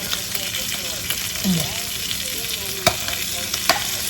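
Garlic and seasoning sautéing in a hot pan, a close steady sizzle with spoon scrapes and a couple of sharp clinks, alone with no one speaking.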